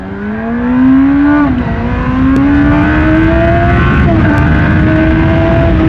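A 2010 Baby King motorcycle engine accelerates hard, its whine climbing in pitch through each gear, with two quick drops as it shifts up; loud and close.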